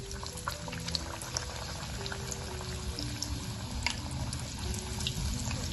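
Methi masala puri dropped into medium-hot oil, a steady dense sizzle and bubbling that runs continuously, close and moderately loud, with no talking.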